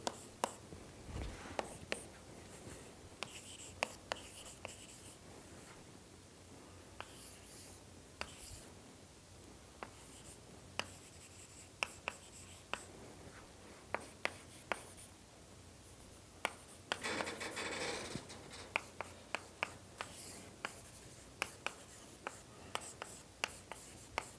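Chalk taps and scratches across a board during a doctoral lecture on partial differential equations, in quiet, irregular bursts of strokes and clicks, with faint room noise and occasional speech.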